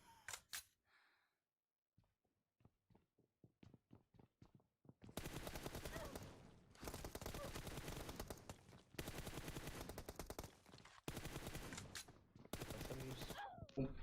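Gunfire in PUBG Mobile: a run of sharp single shots gives way to long, loud bursts of rapid automatic fire with brief pauses between them, heard without clear talk.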